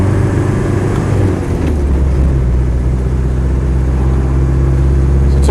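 A Land Rover 110 with a 2.5 diesel engine pulls away, giving a steady low rumbling drone with a slight shift in pitch as it moves off, heard from inside the vehicle without talk.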